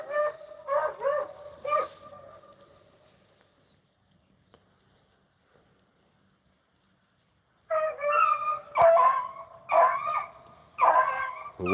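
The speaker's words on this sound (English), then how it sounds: "I'd say Frank's opening up on the where that rabbit's done been through there" A beagle pack bays on a rabbit's track in the woods. Short bursts of high yelping and baying open the stretch, then it goes nearly silent, and the chorus breaks out again more strongly near the end.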